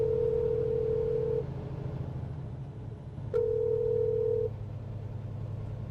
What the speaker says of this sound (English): I'm going to dial your ex-coworker